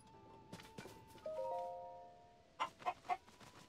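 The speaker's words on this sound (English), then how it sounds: "And there's a chicken on a stump." A chicken perched on a stump in the Zelda Tears of the Kingdom video game gives three quick clucks near the end, after soft game chimes and tones.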